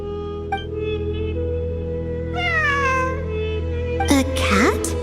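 A cat meows in the game Genshin Impact, a few clear rising-and-falling calls over a steady droning game soundtrack, with a brief bright sweep near the end.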